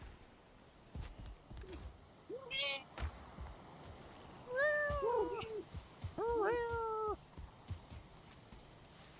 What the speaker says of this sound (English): when it meows kind of in the same way every time